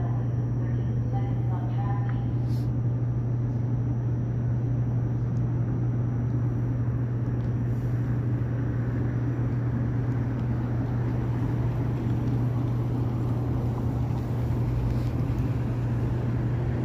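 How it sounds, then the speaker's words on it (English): Train pulling away on an Edmonton evening, a continuous low rumble and hum with steady broadband noise from nearby, sustained without a clear break. "watch the train pull away"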